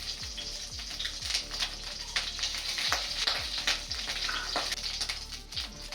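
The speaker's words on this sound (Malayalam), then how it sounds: "കടുക് പൊട്ടിയതിന് ശേഷം വറ്റൽമുളക് ചേർക്കുക" Dried red chillies fry with popped mustard seeds in hot coconut oil for a Kerala drumstick-leaf thoran, giving a close, continuous sizzle with rapid crackles and scattered sharp pops throughout.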